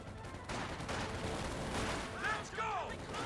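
Bursts of MG34 machine gun fire crackle through a Company of Heroes 2 battle, a dense rattling volley that runs steadily under other combat noise and a few whistling shells.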